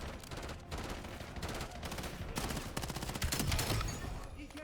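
Rapid gunfire in the shooter video game Black Ops 7, dense bursts of automatic fire with sharp impact ticks layered throughout, loud and continuous with no pauses.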